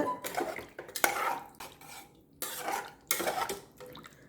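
Metal spoon scraping and clinking against a pot while stirring rice and water for vegetable biryani, in a few close bursts with quiet pauses between.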